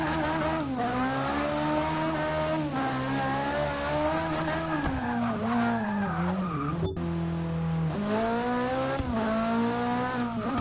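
A Ferrari 458 Italia in a slammed drift build in Forza 6 slides its tires through a drift, with continuous loud skidding over a steady, wavering engine roar that dips briefly near the end.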